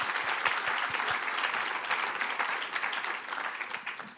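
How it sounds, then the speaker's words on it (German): Audience applause at a German conference on the economy and work, a dense, steady clapping from a crowd that sustains at an even level throughout. "Das ist auch ein Applaus wert."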